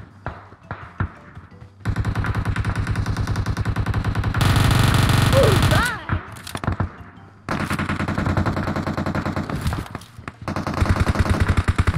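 Rapid automatic gunfire in a shooter video game, several loud sustained bursts separated by short pauses and single shots, close and dominant.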